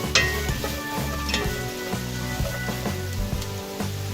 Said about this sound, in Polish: dorzucamy cebulę. Całą. I smażymy ją, żeby dostała fajnego koloru.